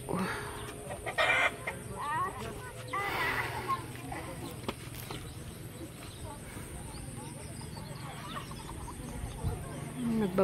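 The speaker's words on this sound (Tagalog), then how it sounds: "Wala, may manok." Chickens cluck and a rooster crows at a family outing at a resort in Sitio Buntay, Santa Magdalena, heard moderately close amid outdoor ambience, with people talking now and then.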